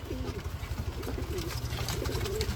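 Low, throaty pigeon coos repeat in a steady rhythm, several birds close together at a pigeon farm, with faint background chatter and a busy, enclosed feel.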